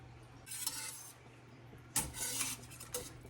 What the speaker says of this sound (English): just keep stirring, just keep stirring